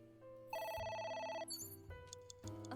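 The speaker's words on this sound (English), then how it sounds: "Yeah, phone." A telephone rings in the video game AI: The Somnium Files, with a steady electronic ringing pattern that gives way to other game tones, all fairly clear with no talk over it.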